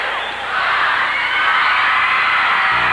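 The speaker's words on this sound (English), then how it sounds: "Crowd's counting it down." A wrestling arena crowd chants and roars in a steady, dense wall of voices that stays loud and unbroken, with no separate speech standing out.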